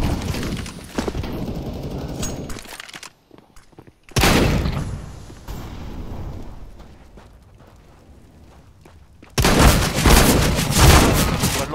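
Flashbang grenade going off in CS:GO amid a competitive match: loud bursts of blast and gunfire-like noise come in heavy stretches, broken by a short near-silent gap, with a final harsh, sustained crack near the end.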